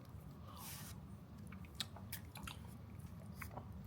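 Someone bites into a slightly melted Basque-style cheesecake at a Barcelona cafe, giving a few soft, close squishy bites and chewing sounds over a steady low background hum, with no talking.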